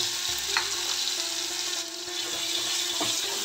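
Pea paste with asafoetida sizzling and frying in a pan over low heat, a steady soft crackle with occasional stirring scrapes, close up and without talk.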